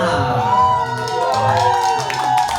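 A crowd at a children's drumming show cheers, with high, sliding whoops and excited shouts rising over a steady murmur of voices. The cheering is lively and fills the room.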